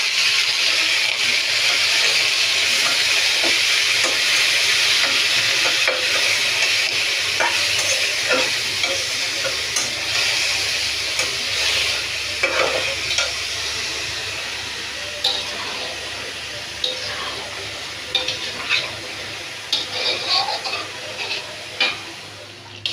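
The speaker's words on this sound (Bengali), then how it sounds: "আলু ভাজি বসিয়ে দিলাম।" Potatoes frying in a very hot wok, with steady loud sizzling and hiss throughout and repeated scraping stir strokes that grow more distinct toward the end.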